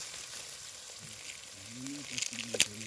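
Onions fry in a pot over a low flame with a soft, continuous sizzle, and voices talk over it, growing busier toward the end.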